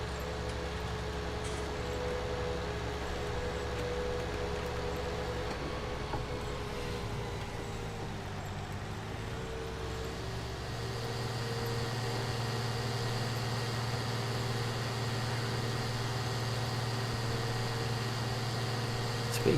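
A Deutz-Fahr Agrotron 115 Mk3 tractor in Farming Simulator 19 hauls a load uphill, its engine holding a steady droning hum with a pitch shift midway, continuous and fairly quiet with no talking.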